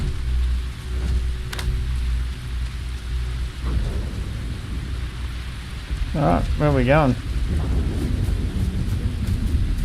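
Steady rain and rolling thunder in the video game Space Cops form a continuous low rumble and hiss, with someone briefly speaking over the storm partway through.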